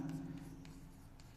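Someone writes an example on a board in a classroom: faint, short scratchy strokes in a few soft bursts over a steady low hum.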